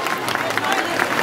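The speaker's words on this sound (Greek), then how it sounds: "Ένα χειροκρότημα για τη Μαριέτα" An audience applauds for a schoolgirl contest participant at the opening of the Naousa carnival, a short burst of dense, crackling clapping mixed with crowd voices.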